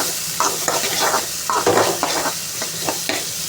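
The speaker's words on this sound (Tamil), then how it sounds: "எண்ணெய் ஊற்றிட்டு வெங்காயம் போட்டுட்டேங்க வெங்காயம் கொஞ்சம் நல்லா வதங்கட்டும்" Steady sizzle of onions frying in oil in a pan, broken by repeated scraping stirs of a spatula at an uneven rhythm.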